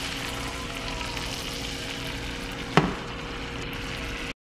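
Food frying in butter in a pan, a steady close sizzle running throughout with one brief sharper crackle partway through, alone with no talking.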